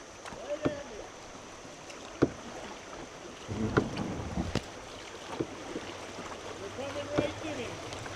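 A canoe paddled on Antietam Creek gives soft, irregular paddle strokes and water splashes, close and fairly quiet, with wind and light rustling in the background.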